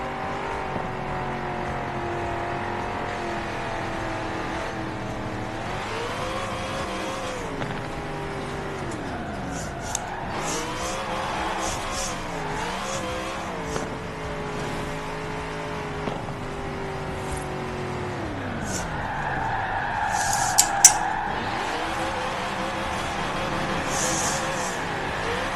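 A car drifts in a racing video game, its engine revving up and down through gear changes, with tire squeal rising in the later part and a few sharp clicks, no talk.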